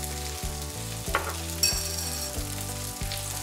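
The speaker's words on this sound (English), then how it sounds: "I'm just gonna stir this all in together" Tofu fries in a pan with sugar and coriander powder while being stirred, a steady close sizzle with a few soft scraping strokes and no talking, set against a continuous tonal background hum.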